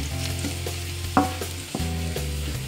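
Ginger frying in a pan as the first step of chicken adobo with egg, a steady close sizzle with a few stirring scrapes and a sharper clack near the middle.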